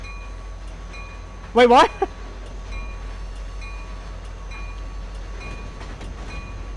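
A train in the Trainz simulator sounds one short, loud horn blast over a constant low rolling rumble, and a voice speaks briefly.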